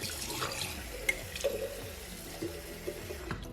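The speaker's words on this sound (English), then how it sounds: "So I'm just gonna go ahead and put a little bit of water in this." Water trickles and splashes as it is poured into a container for washing makeup brushes, a steady close running-liquid sound with small drips and gurgles, no voice.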